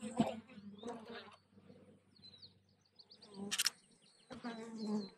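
Bees forage on thistle flowers in a field, with faint intermittent buzzing, birds chirping now and then, and someone talking close by.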